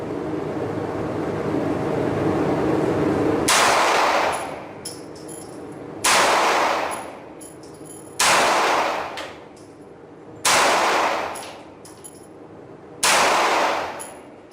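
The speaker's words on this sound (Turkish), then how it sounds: "hedefi görüp 5 tane hızlı atış yapacağım" A Girsan MC 27E pistol fires five sharp, loud shots in a steady rapid rhythm at a target, each followed by a short ringing decay, with quiet gaps between them.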